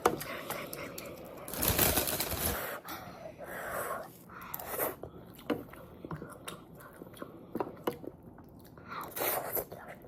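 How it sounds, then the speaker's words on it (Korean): Someone eats ramen noodles up close, with a long loud slurp followed by intermittent wet chewing, smacking and short slurps, while speech drifts in at times. "호로록 먹어주면 안 될까요?"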